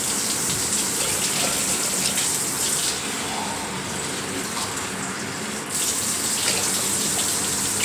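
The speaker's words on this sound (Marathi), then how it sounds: "त्याच्यात आपण पाणी घालूया." Water poured from a vessel into a pot of soaked lentils, a continuous gushing splash that stays loud and close throughout, dipping slightly in the middle before resuming at full strength.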